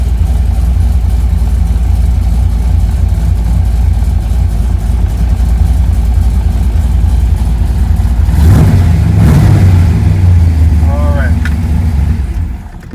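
A V8 engine swapped into a Mazda RX7 idles after a cold start, a steady loud low rumble throughout with a brief louder burst near the end and a faint whine.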